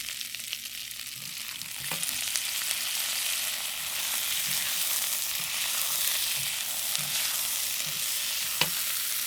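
Chinese eggplant, cooked rice and chicken being stir-fried in a pan, a steady low sizzle with occasional soft stirring knocks and scrapes throughout, moderately quiet and without talk.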